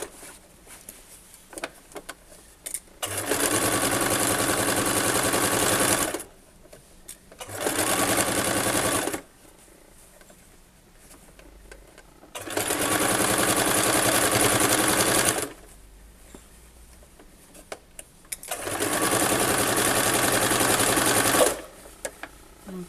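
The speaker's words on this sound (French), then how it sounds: "Je couds à 1 cm du bord, toujours." A sewing machine stitches fabric for a washable-wipes basket, running 1 cm from the edge in four steady whirring bursts of a few seconds each, separated by short quiet pauses, close and clear with no talking.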